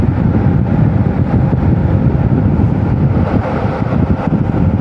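A Sharp PJ-A36TY-B air cooler fan blows steadily, giving a close, even broadband whoosh of moving air with no talking.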